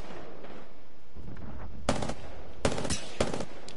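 Burst gunfire from a gun in a video game: three short, sharp multi-shot bursts crack out over a steady game background.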